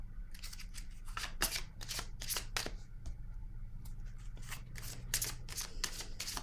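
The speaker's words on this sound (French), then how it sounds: "Là, je vais piger une carte rose." Tarot-style cards being shuffled and a pink card drawn, heard as a quick series of crisp riffling snaps and flicks, close and fairly quiet over a low steady hum, with no talk.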